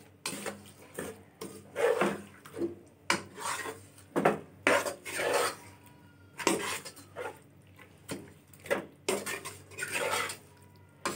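Spices being mixed into meat in a bowl, heard as repeated scraping, rubbing and clinking strokes of a utensil against the dish at an uneven rhythm, close and fairly quiet, with no talking.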